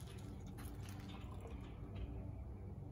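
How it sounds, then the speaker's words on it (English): Water poured into a test tube during a simple school science activity, a steady close trickle and splash of liquid filling glass, with no talking. "I'm going to add the same amount of water,"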